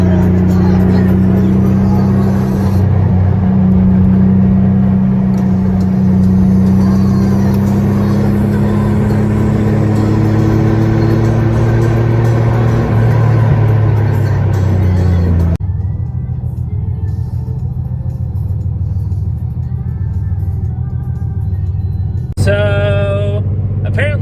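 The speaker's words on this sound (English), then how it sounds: "driving summer tires up a snowy canyon was a great idea" A car on summer tires climbs a snowy canyon road, its engine a steady low rumble that drones on and softens partway through, with brief faint knocks near the end.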